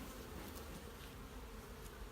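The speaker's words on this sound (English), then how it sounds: "the bees are quite active" Honey bees drone around their hive in a low, constant buzz, quiet and unbroken, with no one speaking.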